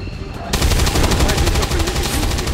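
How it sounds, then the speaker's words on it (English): Rapid bursts of gunfire from XCOM 2: War of the Chosen erupt after a brief quiet lead-in, then continue as loud, dense, sustained shooting through the rest of the clip. "I could just shoot the guy."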